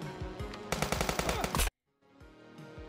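Submachine gun fire in the police tactical video game Police Stories rattles off in a rapid loud burst of about ten shots, preceded and followed by other game sounds, with a brief silence in between.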